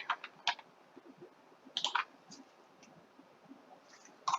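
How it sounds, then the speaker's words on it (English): A few crisp computer keyboard key presses, sparse clicks scattered over a few seconds with a quiet room hiss between them. "I'm going to click I on my keyboard to set it there"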